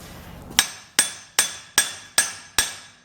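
A forging hammer strikes an anvil six times in an even rhythm, each blow a sharp, bright metallic ring that fades quickly, close and clear with no talking.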